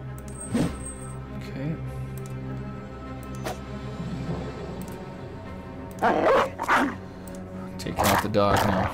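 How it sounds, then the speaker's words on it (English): A dog barking in the video game Battle Brothers, several short yips and barks, some close and loud, scattered among clicks and game sounds while someone talks over much of it. "Taking out the dog now."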